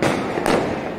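Diwali firecrackers bursting in quick succession, dense crackling pops with a sharper loud burst midway, fairly close and continuous.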